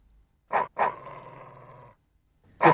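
A dog barks inside a candlelit house: two quick close barks, a trailing growl-like rumble, then another bark, with a faint high tone in the background.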